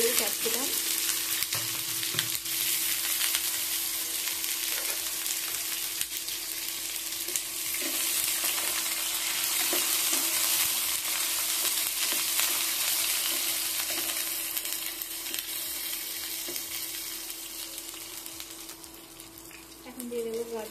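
Capsicum frying in hot white oil in a wok, a steady loud sizzle with occasional stirring clinks running throughout, no talking.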